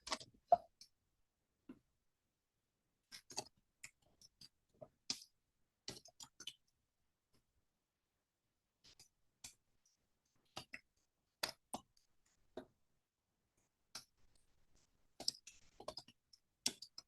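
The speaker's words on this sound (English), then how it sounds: "Start typing." Typing on a computer keyboard, heard as sparse, faint clicks and short bursts of keystrokes separated by pauses, close but quiet, with no talking.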